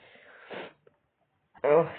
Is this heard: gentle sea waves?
no